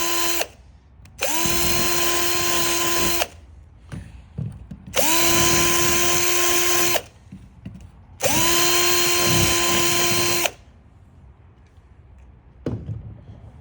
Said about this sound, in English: now I'm just reaming out the holes, getting all the old sealant out of there